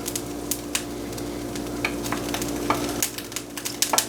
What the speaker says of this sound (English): I'm going to take this spoon to drain it. You got to do it over the sink